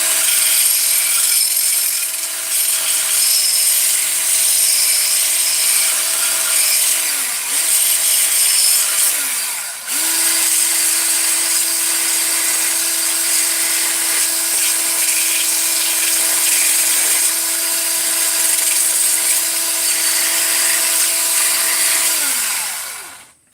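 A power tool, likely an angle grinder, works the edges off a metal part in steady, loud passes, its motor briefly dipping in pitch and pausing around the middle before running on continuously.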